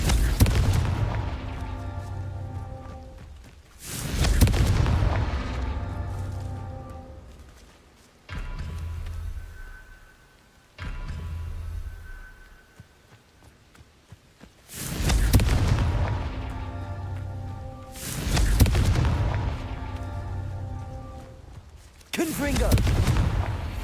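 Confringo spell explosions in the Hogwarts Legacy video game, a series of heavy booming blasts with long rumbling decays, about six of them at irregular intervals, loud and near.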